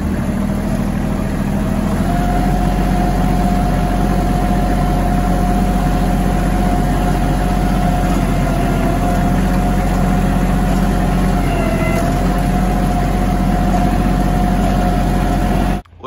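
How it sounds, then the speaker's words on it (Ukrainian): A Hinomoto NX-220 tractor's diesel engine idles steadily and loudly up close, a low constant rumble with a faint higher whine, cutting out abruptly at the end. "Двигун працює дуже рівно."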